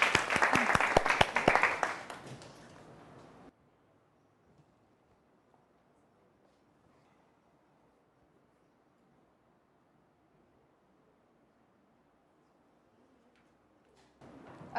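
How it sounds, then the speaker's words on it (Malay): Classroom students clap for Hadi during a Form 4 chemistry lesson, a brief loud burst of clapping that dies out within a few seconds, followed by near silence, with faint sound returning at the very end. "Beri tepukan kepada Hadi."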